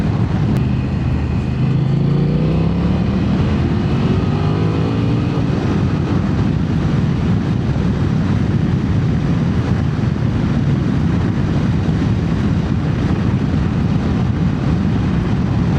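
A 2026 BMW F900XR Sport Triple Black motorcycle engine pulls hard under acceleration, its rising tone quickly buried in a loud, steady roar of engine and wind rush that carries on unbroken.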